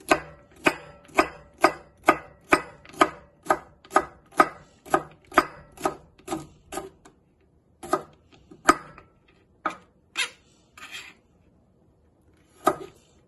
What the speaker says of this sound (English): now we're going to go ahead and chop them up or cut them up just like this